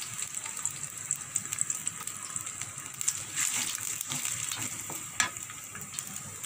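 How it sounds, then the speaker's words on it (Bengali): Chopped onion sizzles and fries steadily in a hot pan, a dense crackling hiss with occasional stirring scrapes and small pops, close and fairly loud throughout with no talking. "এখানে পেঁয়াজ কুচিটা দিয়ে দিলাম"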